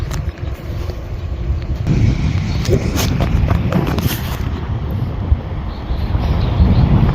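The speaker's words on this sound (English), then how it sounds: "it's a lot windy here because we're kind of high up in elevation" Strong wind at high elevation on the Denali Highway buffets and roars steadily across the microphone outdoors, a constant low rumble with gusts, and no clear voices.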